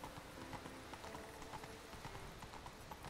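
Roach, Geralt's horse in The Witcher 3 video game, gallops with a steady, rapid clip-clop of hooves, loud and continuous throughout, under a faint bed of in-game ambience.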